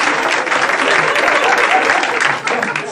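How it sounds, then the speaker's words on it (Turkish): Loud, close studio audience applause on a Turkish talk show, a thick, continuous wash of clapping that holds steady for three seconds with only a brief dip near the end. "alkış"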